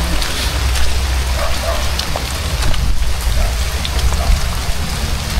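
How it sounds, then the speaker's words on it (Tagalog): Heavy rain pours steadily onto surfaces at a fishpond site, a dense, loud, continuous hiss with no voices. "Yun o, ang lakas ng ulan."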